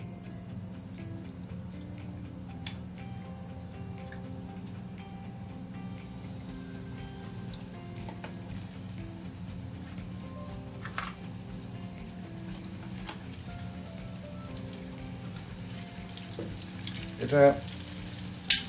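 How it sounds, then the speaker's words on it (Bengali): KFC-style chicken pieces dropped one by one into hot oil, a steady crackling fry with faint ticks and a brief louder burst near the end; a voice says a single word early on. "এখন আমি এটা এখন তেলে একটা একটা করে আমি ছেড়ে দিব।"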